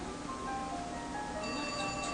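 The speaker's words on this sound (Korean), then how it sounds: "전화 왔어, 잠깐." An incoming call sets off a phone ringtone, a steady electronic melody that repeats for a couple of seconds at moderate level, with no talking over it.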